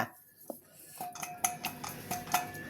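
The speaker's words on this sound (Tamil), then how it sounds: "இப்போ ஒன்றா போட்டுக்கலாம், மிக்ஸ் பண்ணிக்கலாம் எல்லாத்தையுமே" A metal spoon scraping and clinking against a pan while stirring a ground urad dal barfi mixture, several light irregular taps close by with no talking.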